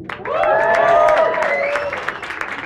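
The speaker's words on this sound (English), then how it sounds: "Round of applause for Dems, please." At a school event in a Birmingham academy, young people cheer and whoop loudly with scattered clapping, high excited voices rising together and then thinning into isolated claps.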